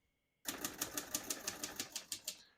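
Typing on a 1946 Royal Quiet De Luxe portable typewriter: after a short silence comes a quick, even run of about a dozen sharp key strikes, crisp and close, with no voices.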